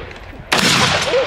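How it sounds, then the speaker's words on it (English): A bazooka fired in a video game, a sudden loud blast that cuts in partway through and rolls on as a dense, sustained roar, with faint voices before it. "Rudy about to go crazy with the bazooka"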